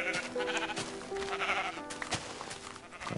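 Sheep in the Minecraft video game bleating several times, a few repeated wavering calls over a steady layer of game background sound, fairly close and moderately loud.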